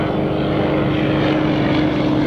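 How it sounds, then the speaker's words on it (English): A Douglas Dauntless propeller plane with a radial engine passes right overhead at a World War II airshow, giving a loud, steady, throbbing drone at close range with no voices. "Douglas Dauntless, right over our head."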